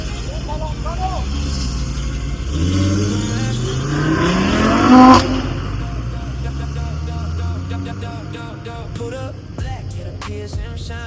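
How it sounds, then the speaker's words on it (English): Audi RS3 cars revving outdoors, a loud engine rev rising to a sharp peak around the middle and then settling, with people talking over it throughout. "Was the RS3 making some noise here outside?"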